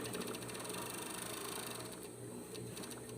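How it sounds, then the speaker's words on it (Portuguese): An overlock serger runs steadily through fabric while sewing a panty, giving a continuous, moderately loud mechanical whir with a fast rhythmic hum and no breaks. "essa é overlock."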